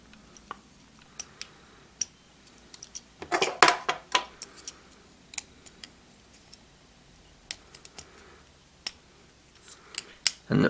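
Plastic parts of a Shinkalion 500 Kodama toy being plugged into a main pole and folded, sharp small clicks and snaps scattered irregularly, with a cluster of louder clacks partway through.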